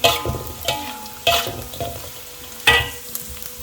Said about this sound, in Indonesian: sekarang udah kita goreng bersama bawangnya